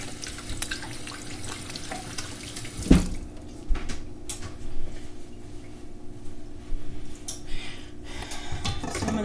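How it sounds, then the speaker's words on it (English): Tap water runs steadily into a kitchen sink while hands are rinsed under it, a continuous broadband splash with a brief louder clunk near the start, close by and with no talking. "Wash my hands."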